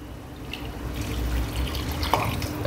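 Water is poured into a pot of rice for Mexican rice, a short close trickling and splashing pour lasting a few seconds, steady and moderately quiet with no talk.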